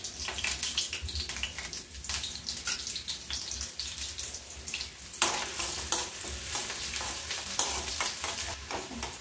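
Onion sizzles in hot oil in a pan for fish curry, a steady close crackle with stirring scrapes and a sharp surge of frying partway through.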